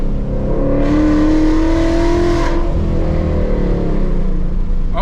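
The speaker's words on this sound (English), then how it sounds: "Once you're high up in RPMs, this car gets nothing but louder." A 2021 Mustang GT running E85 with stainless headers and a Roush cat-back exhaust accelerates hard in fourth gear, a loud rising engine roar climbing through the revs, then easing off to a lower rumble.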